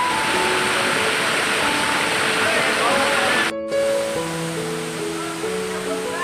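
Fresh mountain water from Girnar rushes steadily at Jatashankar near Junagadh, a dense continuous roar that briefly cuts out, with faint voices mixed in.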